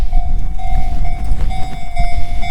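A train moves through a station in Japan with a loud, close, low rumble and a steady ringing tone held over it, continuous throughout.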